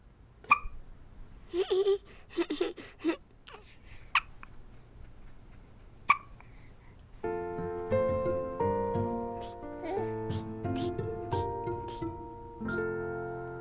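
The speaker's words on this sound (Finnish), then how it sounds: "Oho, tuli hikka." Cartoon character from a children's farming-themed animated show gives several sharp, distinct hiccups spaced a few seconds apart, then bright toy-like musical tones take over as the hiccups continue lightly beneath them.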